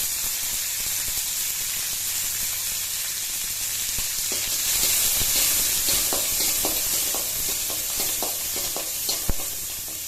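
Cumin seeds and chana dal sautéing in hot oil for a Tamil sundakkai vathal kuzhambu, a loud continuous sizzle with frequent stirring scrapes and crackles, swelling slightly midway.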